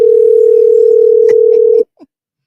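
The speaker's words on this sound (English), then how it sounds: "Is my phone calling?" Phone call tone: a steady, loud single-pitch ringback tone holds for nearly two seconds, then cuts off, followed by a brief faint blip, with small clicks riding over it.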